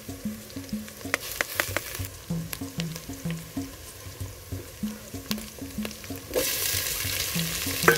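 Garlic and onions frying in a pot over a village cooking fire, crackling sizzle with regular rhythmic scraping of a spoon against the pot, rising to a louder hiss near the end; no talk.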